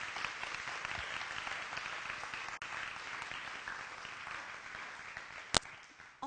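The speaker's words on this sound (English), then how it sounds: "I'd like us to applaud all of the families and friends who are here today who have supported all of you" A large audience applauds families and friends at a graduation rites-of-passage ceremony, with a dense, steady wash of clapping sustained throughout and no talking over it.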